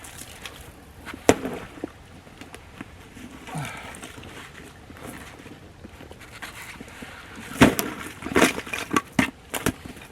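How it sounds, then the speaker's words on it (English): Several sharp smacks and cracking knocks ring out as old ice is smacked out of an animal water bowl in sub-freezing weather, with a cluster of hard hits near the end over wind and rustling. "There's some old ice from when I've been doing it. Sometimes it takes a couple smacks."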